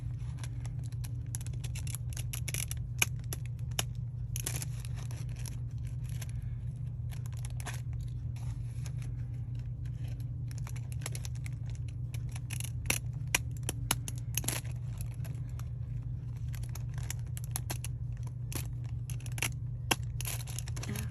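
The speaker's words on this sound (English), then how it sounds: "I'm going to use my fancy scissors here." Repeated sharp snips of decorative scissors and crisp paper rustling over a steady low hum, irregular cuts scattered throughout, close and fairly quiet.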